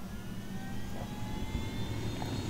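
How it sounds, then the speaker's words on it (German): A steady, droning whine of a helicopter engine in the video game Ghost Recon Wildlands, heard evenly and continuously with no one talking. "So, Helikopter. Helikopter."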